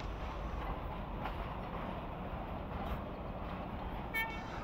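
A train hauling 120 tonnes of liquid medical oxygen containers from Tatanagar, Jharkhand, rolls into Bengaluru with a steady heavy rumble, and a short horn toot sounds near the end.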